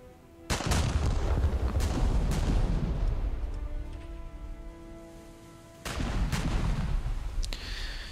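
Battleship turrets firing in a naval combat video game, a Helena cruiser targeted: two heavy booming salvos, each a sharp loud blast with a long rumbling decay, spaced several seconds apart.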